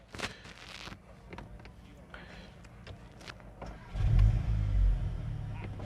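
Volkswagen Golf GTI Clubsport 45 with an Akrapovic exhaust, its engine rising to a louder, deeper rumble toward the end, with muffled cabin sounds and a voice speaking over it.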